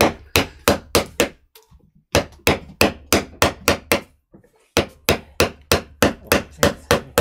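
A chisel struck with a hammer while carving a woodblock for printing: brisk, evenly spaced loud knocks in three bursts separated by short pauses, close and with no talking.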